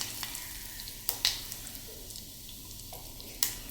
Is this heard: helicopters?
no